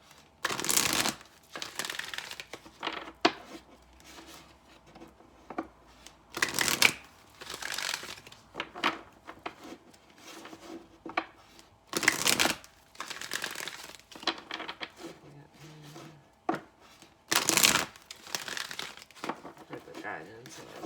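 A tarot or oracle card deck being shuffled by hand, repeated bursts of riffling and papery flicking with pauses between, close and moderately loud; a voice talks quietly in the background at times.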